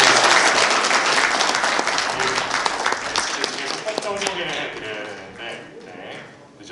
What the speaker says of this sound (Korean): 여러분들 박수로 좀 환영해봤습니다